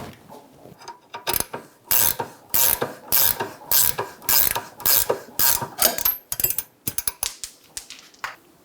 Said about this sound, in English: Using two 19mm wrenches, we're going to remove the bolt.